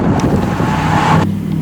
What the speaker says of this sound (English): It's terribly windy.